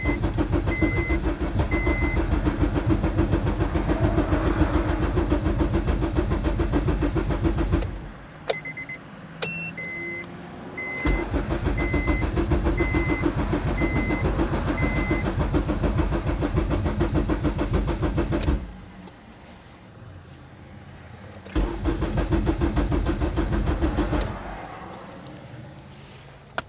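A car engine on a standalone ECU cranks and sputters close by, running roughly in long loud stretches that cut out and restart, with occasional electronic beeps.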